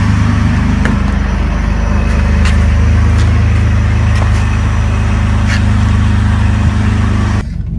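A 2003 Jeep Liberty engine idles steadily nearby with a low, even rumble and no talk, then cuts off abruptly near the end.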